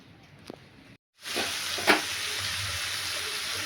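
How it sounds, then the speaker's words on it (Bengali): Pointed gourd and potato pieces sizzle in hot oil for a Bengali vegetable chorchori, a steady frying hiss that drops out briefly, then returns louder with a sharp stirring scrape near the middle. "পটলটাকে ভালো করে ভেজে নিতে হবে, ভালো করে প্রথমে পটল আলুটা নেড়ে নিচ্ছি"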